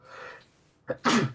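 A person sneezes once, close and fairly loud: a brief intake of breath, then a sharp explosive burst, with no talking.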